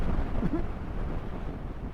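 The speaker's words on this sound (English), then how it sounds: "it's a bit windy, hopefully not too noisy" Steady wind buffets the microphone, a dense low rumble filling the whole clip with no let-up.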